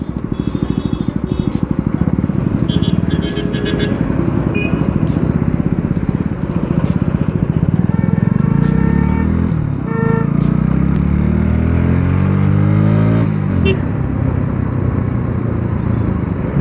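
Motorcycle with a loud modified exhaust revs hard over a steady engine rumble, repeated throttle blips and a rising-falling rev sweep near the end, close and loud throughout.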